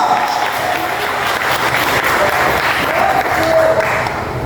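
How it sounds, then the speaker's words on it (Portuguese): A church congregation claps in praise during a sermon, a thick continuous wash of applause holding steady throughout, with a voice carrying faintly over it. "glorifica Ele com suas palmas"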